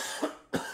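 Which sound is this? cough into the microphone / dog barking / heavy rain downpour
cough into the microphone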